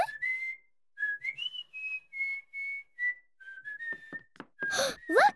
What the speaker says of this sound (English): He's whistling, so he won't be afraid of the dark.